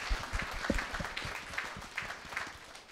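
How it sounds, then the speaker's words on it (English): Faint, diffuse applause from a church congregation at a jubilee Mass for religious professing their vows. The clapping is soft and distant and holds at a low, even level throughout. "As they made their vow of commitment, let us give them a big applause"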